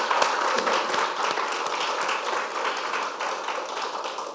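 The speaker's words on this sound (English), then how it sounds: "Can we just have another applause for Val?" Sustained audience applause at a health service annual general meeting, dense overlapping clapping from a room full of people, steady and fairly loud throughout.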